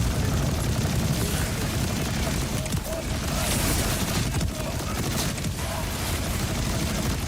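Continuous rapid gunfire from a weapon in Borderlands 4, a dense steady stream of shots under loud game noise throughout.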